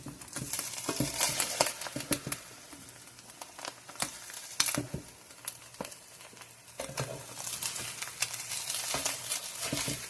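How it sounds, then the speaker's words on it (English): Corned beef hash is served from a frying pan, with a spatula scraping and stirring against the pan over a steady sizzle, plus scattered clinks and rustles close by. "I'm just going to start serving my corned beef hash."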